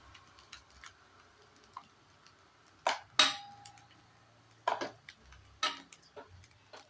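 A spoon scrapes and clinks against a pan while cooked rice is stirred with salt for egg fried rice, giving a few sharp, sparse metallic taps and scrapes close by in a quiet room.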